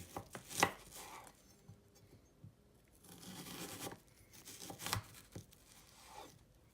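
A knife chops through an onion on a cutting board, a few crisp cuts with slicing rasps between them, close and fairly quiet.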